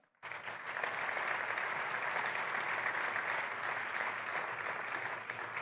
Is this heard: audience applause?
yes